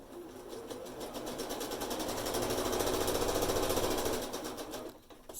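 Sewing machine chain piecing fabric, running steadily with a fast, even mechanical rattle that swells slightly in the middle and slows near the end, close and alone without talk.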